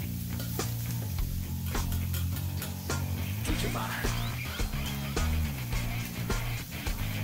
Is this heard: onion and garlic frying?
yes